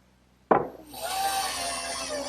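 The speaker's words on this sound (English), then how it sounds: "cut them on the bandsaw, and then smooth out the edges with my drum sander" Bandsaw slicing through wooden armrest brackets for an Adirondack chair: a sharp knock as the blade meets the wood, then a steady, bright rasping whine of the cut that continues to the end.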